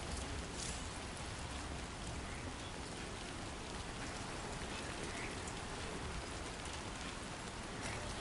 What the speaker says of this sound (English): I don't think it's gonna let up the rain.